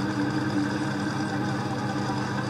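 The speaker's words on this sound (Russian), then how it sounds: "Вот такая вот уборочка, которая она сильно гремит." A toy street-sweeper machine running with a continuous buzzing, rattling mechanical whir, steady and close throughout with no pauses.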